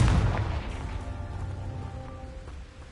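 A single Confringo blasting spell strikes in Hogwarts Legacy, a loud thump at the start trailing into a fading rumble.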